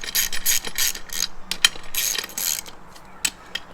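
A socket wrench ratchets in quick clicking bursts while threading bolts onto a KMC KM237 beadlock wheel ring, the pawl rattling loud and close with short pauses between runs.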